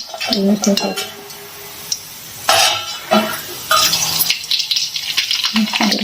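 Kurdai, Maharashtrian rice crisps, fried in hot oil in a home kitchen: bursts of sizzling mixed with metal utensil clinks, pan scrapes and stirring, loud and close, with occasional voices.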